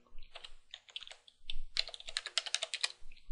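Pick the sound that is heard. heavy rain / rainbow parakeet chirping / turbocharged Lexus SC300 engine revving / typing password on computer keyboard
typing password on computer keyboard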